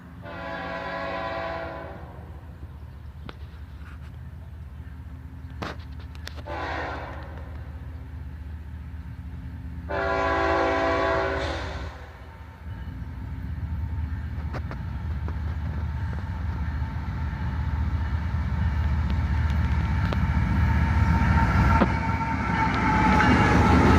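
A southbound CSX freight train led by an ET44AH and an ES40DC sounds three long horn blasts, then its rumble swells steadily louder and nearer as it rolls past.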